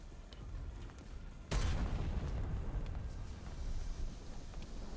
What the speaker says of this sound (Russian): Просто я слышал выстрел какой-то.